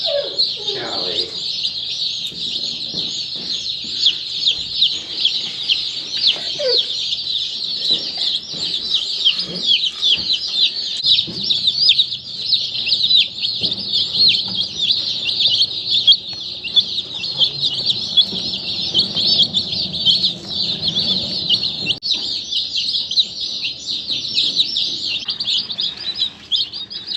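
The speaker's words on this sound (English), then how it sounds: "When I first put the chicks in the brooder here," Baby chicks in a brooder peep continuously in a dense, high chorus, loud and close throughout, with faint handling noises and low murmurs underneath.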